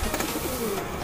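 Racing pigeons around their loft, giving a soft coo over a steady outdoor hiss in a brief, fairly faint moment with no voices.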